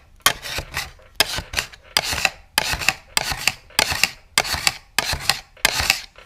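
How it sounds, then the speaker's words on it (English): A scraper is dragged over a waxed ski base to remove wax: eight rasping strokes in an even rhythm, each a short gritty scrape followed by a brief pause, close and fairly loud. "Just kind of scrape over it."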